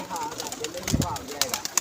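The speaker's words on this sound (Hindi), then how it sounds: "वो बड़ा वीआईपी कबूतर है यार" A pigeon coos softly among other birds at a loft, with low murmuring voices and scattered rustling mixed in.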